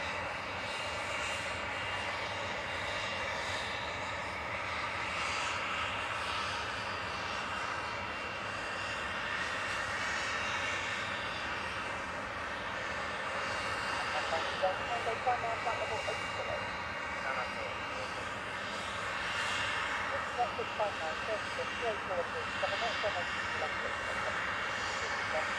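A VistaJet Cessna Citation business jet departing Manchester Airport, its steady broadband engine roar holding throughout and swelling slightly toward the end, heard at a distance with outdoor ambience.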